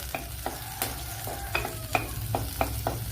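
Fish curry ingredients, garlic, ginger and green chillies, frying in a pan, a steady close sizzle broken by repeated scraping stir strokes with no one talking.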